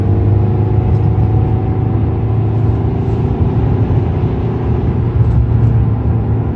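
Mercedes C-Class engine held at high revs in manual gear mode, a loud, steady droning roar from inside the car that stays strained and sustained throughout with no talk.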